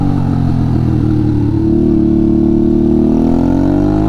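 A Honda Shadow 500 motorcycle engine drones steadily and loud while riding, its pitch dipping then climbing as the bike accelerates, with no speech over it.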